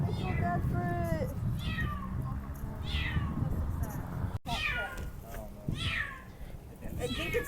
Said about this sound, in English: I think it's hurt because it keeps meowing